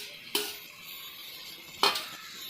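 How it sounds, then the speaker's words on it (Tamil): Tomatoes with salt sautéing in a pan for a dried panna fish and egg thokku: two sharp clinks of a spoon against the pan over a faint, steady hiss. "தக்காளியில கொஞ்சம் உப்பு சேர்த்து வதக்கிடுங்க."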